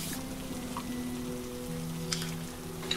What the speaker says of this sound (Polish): Deszcz nagle spadł.